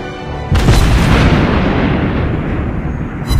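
A heavy explosion from a torpedo bomber attack in a naval video game: a loud sudden boom that rolls on as a long rumbling decay, with a faint sharper crack near the end.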